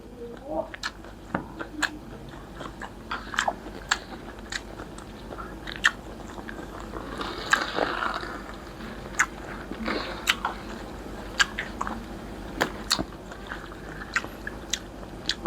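Close, crisp bites and crunchy chewing of food, a series of sharp crunches with softer mastication between them, with some quiet talking alongside.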